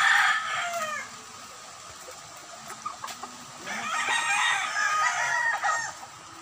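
Derby fighting roosters crow loudly in their coop, two long crows a few seconds apart with clucking between, over steady rain noise.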